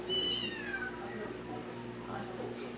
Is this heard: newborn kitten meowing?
yes